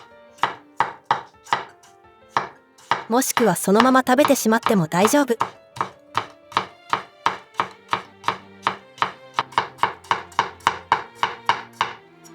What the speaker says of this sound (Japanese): 最後の小さくなってしまったものは包丁で細かく切りましょう